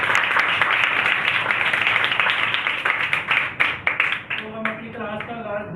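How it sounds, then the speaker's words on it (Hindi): Children clapping loudly in an online Sunday school class, a full burst of applause that breaks up into separate claps near the end as a voice starts speaking. "तमाम बच्चे अपने लिए जोरदार तालियां दें।"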